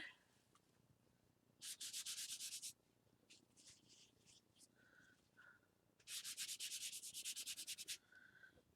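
A damp baby wipe rubs over a paper card in two bursts of brisk, rhythmic back-and-forth strokes, close and crisp, with quiet handling sounds between.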